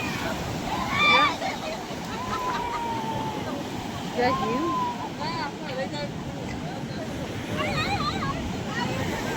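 Sea waves at Dwarka wash and splash against the shore in a loud, churning roar with swells rising and falling, while several people talk and call out excitedly over the water.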